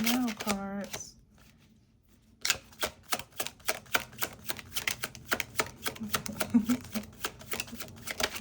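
A deck of tarot cards is shuffled up close, a dense run of rapid crisp flicks and riffling clicks lasting several seconds after a short spoken phrase and a brief near-silent pause.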